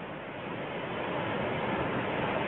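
Ocean waves in the VRChat game roll in as a steady, broad wash of surf noise that swells slightly louder over a couple of seconds, with no talking.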